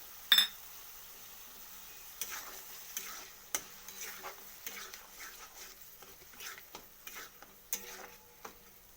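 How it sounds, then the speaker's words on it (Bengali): Mustard paste being stirred with water in a cooking pan, with quiet scattered scrapes and taps of a utensil against the pan over a faint low sizzle, one sharper clink near the start. "সর্ষে বাটাটাকে দিয়ে দিলাম এটার সাথে একটু জল মিক্সড করলাম"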